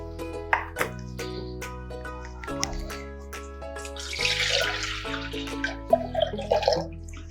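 Water is poured into a clay pot to boil while pearl millet porridge is being made, giving splashing, dripping and a few light clinks over a soft tonal background.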